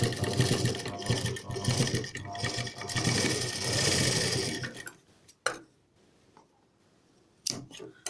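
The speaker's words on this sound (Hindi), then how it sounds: "यहाँ तक हम सिलाई कंटिन्यू करेंगे।" A sewing machine runs steadily as it stitches cord piping onto a kurti neckline, a dense continuous whir for about five seconds, then stops with a few short bursts and clicks of restarting.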